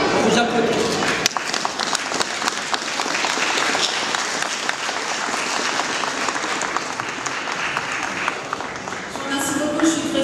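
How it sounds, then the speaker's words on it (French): Audience applause at a medal award ceremony, dense and sustained clapping from a crowd filling the whole stretch, with voices murmuring beneath it. "On vous applaudit."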